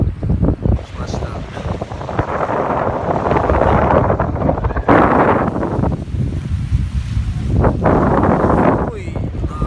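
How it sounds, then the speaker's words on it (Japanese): Strong wind buffets the microphone on the shore of Yuri-ga-hama sandbar at Yoron Island, a loud continuous roar blended with surf and waves, rising and falling in gusts with no clear talk. "風はものすごいですけど"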